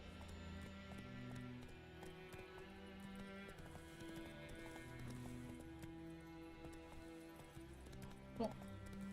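Roach the horse gallops in The Witcher 3 GOTY next-gen edition on Xbox Series X, with rhythmic hoofbeats and an occasional whinny running beneath game music and ambient sound.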